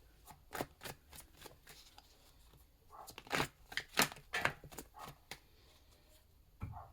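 Tarot cards shuffled by hand in a quiet room, soft irregular riffles and slaps with faint papery flutters, close but low in volume, with no talk.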